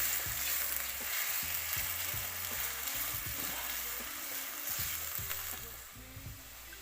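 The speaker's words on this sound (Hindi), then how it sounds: "हमने आलू को 2 से 3 मिनट तक फ्राई करना है।" Chopped potatoes sizzle and fry in a pan over a medium flame, a steady crackling hiss with periodic scraping and stirring clatter, close and continuous, fading slightly at the end.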